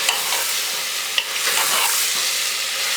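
Roasted cauliflower and potatoes being stirred into a sizzling masala for dhaba-style aloo gobi, a dense, close frying hiss with a few spoon knocks.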